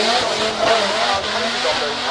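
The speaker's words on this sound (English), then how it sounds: "you can see them spinning round whilst you're doing a donut" A drift car spins donuts at a drift car festival, its engine roaring loudly and steadily with tire squeal woven through, while voices talk faintly underneath.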